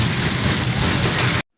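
Steady rain pours down on a rainy day in Lahore, a dense, even hiss of falling water that holds unbroken for about a second and a half before cutting off abruptly.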